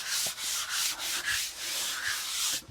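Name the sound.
grinder polishing a concrete countertop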